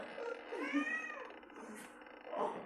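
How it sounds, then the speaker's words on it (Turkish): A cat meows with a drawn-out, wavering cry, followed by a shorter second meow, with faint background noise between. "Kedi miyavlama sesini duyuyoruz."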